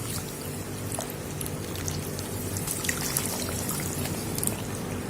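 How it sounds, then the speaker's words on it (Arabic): Water poured from a container over watermelon rinds and sugar in a cooking pot, a steady close splashing pour that runs continuously and evenly throughout, with no talk. "وهروح جايبه ميه واروح مفضياها عليه"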